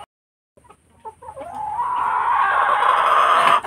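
Rhode Island Red chickens in a backyard coop, rising from scattered soft clucks into a loud, sustained squawking cackle close to the microphone, with no talking.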